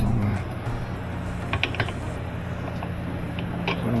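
A ratchet with a deep socket working on a bolt of a Kenmore 70 Series washer, giving a few light clicks and mechanical creaks close by against a steady low hum.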